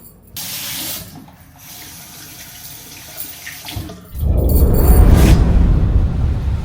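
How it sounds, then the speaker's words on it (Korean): Water from a travel shower head in a bathroom in Phuket, Thailand, starting with a faint trickle and handling noises, then bursting into a loud, steady spray of running water that fills the last few seconds. "우리 여행용 샤워기예요"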